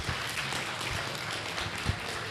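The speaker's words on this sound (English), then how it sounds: "Please give him a big round of applause." Convention panel audience at Retro Con 2022 applauds, a dense, even wash of clapping heard close and steady for a couple of seconds.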